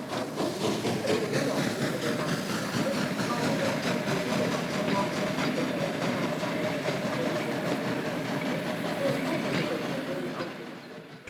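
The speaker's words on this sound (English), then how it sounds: "One of these tank engines departs with a passenger train." A Romanian Class 262 steam tank engine pulls away with a passenger train, its steady rolling rumble and wheel clatter filling the scene at close range throughout before easing slightly at the end.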